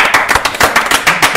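Live audience clapping in an improv podcast studio, a dense patter of hands slapping quickly and steadily at close range for just over a second, with no voices over it.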